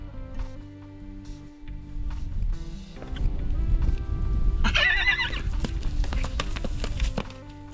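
A wild desert brumby in a band gives a loud, high neigh midway, with thudding hooves and movement before and after, close and clear.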